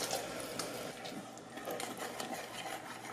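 Water poured into the inner pot of an Instant Pot Duo Mini, a soft continuous splashing trickle, close but fairly quiet, with no talk over it.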